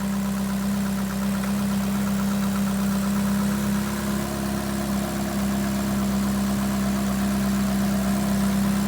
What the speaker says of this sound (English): It's been running and idling for 10-15 minutes